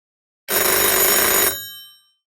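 A loud telephone bell rings in a single continuous burst of about one second, then decays and fades out, standing alone as a notification sound effect.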